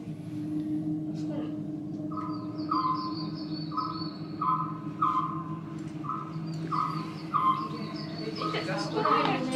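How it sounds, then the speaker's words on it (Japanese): Recorded calls of small local birds play inside a ropeway gondola climbing Mount Minobu, a repeated series of short chirping notes in a steady rhythm over a low cabin hum. "この辺りに住む小鳥の声をお聞きいただきながら登ってまいります。"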